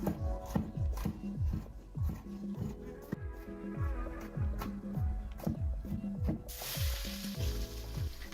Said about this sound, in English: I'm going to allow the mushrooms to cook for about 5 minutes until they are fully cooked